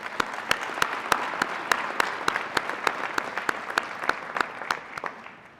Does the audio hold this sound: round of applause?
yes